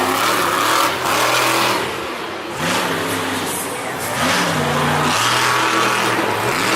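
A Monster Jam monster truck, Raminator, revs its engine on an arena track in Nashville, the loud engine note rising and falling in repeated surges alongside steady crowd and arena roar.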